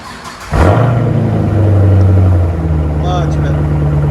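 Inside a Chevy Camaro SS with a 6.2L LS3 and Borla ATAK exhaust, the engine fires up and revs hard with a loud, deep boom, then settles into a lower steady drone, with talk over it.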